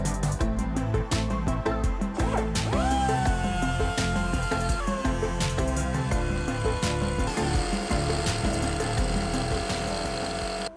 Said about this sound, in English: the carbide bit on the die grinder is really good at removing material